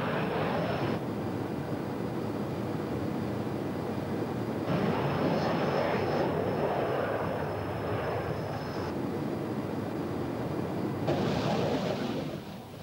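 A Phantom jet's engines roar steadily and close while it refuels from an airborne VC-10 tanker, a continuous broadband drone with a few shifts in tone.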